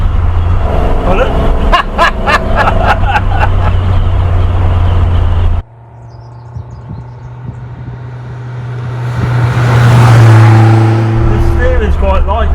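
A Morris Minor car drives along with a steady, moderate engine drone, heard from inside the car under ongoing conversation, with the engine note swelling briefly toward the end.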